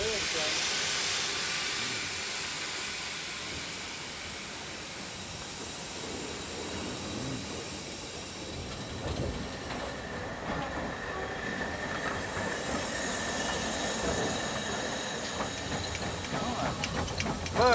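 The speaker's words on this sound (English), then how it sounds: "you get the feeling of what steam locomotion was like on the Great Western Railway" A Great Western Railway steam locomotive running at Didcot Railway Centre, a steady rolling rumble and hiss of the moving train with squealing wheels and faint tonal whines, continuous and fairly close throughout.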